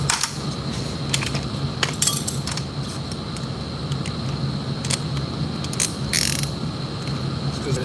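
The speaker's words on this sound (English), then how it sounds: "Tighten up the chuck." A drill chuck being tightened during plumbing work gives steady, close ratcheting clicks and mechanical gear rattle, with a few sharper metallic clinks over about eight seconds.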